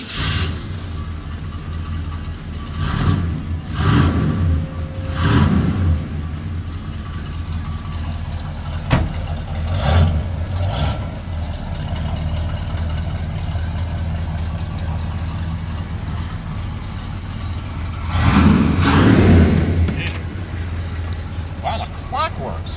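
A cold 1972 Chevrolet Monte Carlo big block idles with a low steady rumble, a few louder revs rising and falling, while people talk over the engine.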